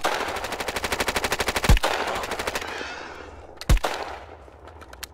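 Automatic rifle fire in the online survival shooter Will To Live Online, a long rapid burst of rounds followed by two heavier close shots and a few scattered trailing cracks, with no talk.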